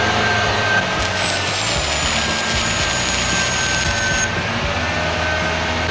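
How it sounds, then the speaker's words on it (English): A truck engine idles steadily at 2000 RPM to power a truck-mounted welder, giving a continuous loud rumble with a faint high-pitched whine running over it, and no voices. "So we'll fire this truck up."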